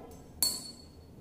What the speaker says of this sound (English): Now, I will drop one by one coin into the glass jars.